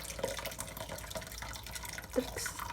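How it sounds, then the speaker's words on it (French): Boiling water is poured into a cooking pot, giving a faint, steady splashing and trickling wash with a few drip-like plinks, close and without talk. "alors j'ai mis l'eau chaude, l'eau bouillante d'ailleurs"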